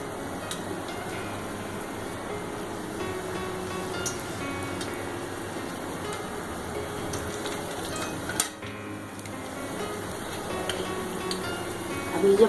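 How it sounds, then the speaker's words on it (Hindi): Balushahi dough rounds fry gently in barely warm ghee over a low flame, giving a faint, steady sizzle with a brief clatter near the end. "अभी मैं इसमें घी में डाल दूँगी"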